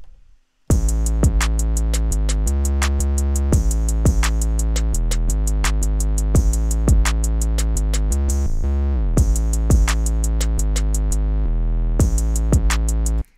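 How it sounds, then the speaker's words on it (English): A full hip-hop drum pattern from the Cody kit loops steadily: rapid ticking hi-hats over booming sustained Prada kicks, dense and loud, with a brief drop in the middle before resuming. "the drums should sound something like"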